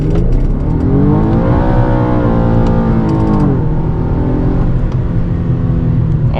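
A modded Infiniti G37's engine revs hard from inside the car, rising tones climbing and holding near the redline, then dropping and rising again, loud and close with a raspy exhaust edge.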